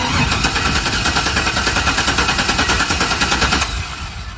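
An engine cranks over on the starter during a compression test, a loud rapid rhythmic chugging of repeated strokes that stops abruptly near the end, leaving a fainter hum.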